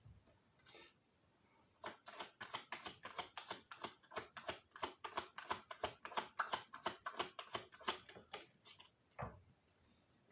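Tarot cards being shuffled by hand, a quick run of crisp papery riffles and taps in a steady rhythm, close and fairly quiet, with no talk.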